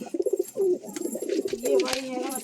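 Pigeons kept by a high-flyer breeder coo in repeated soft throaty bursts close by, with people talking over and between the calls.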